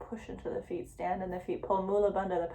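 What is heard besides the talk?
No everyday noises stand out.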